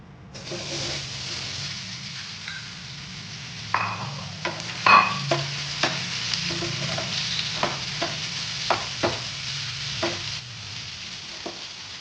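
Pieces of ripe mango are stirred in a hot pan with dried red chillies and curry leaves, a soft sizzle broken by repeated scraping clicks of the spoon, close and moderately loud, with no talking.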